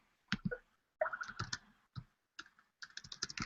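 A name typed on a computer keyboard, quick bursts of crisp close key clicks separated by short silent pauses, fairly quiet, no voices.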